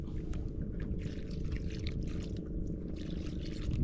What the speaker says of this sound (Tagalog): Siyempre, butangan ta tubig.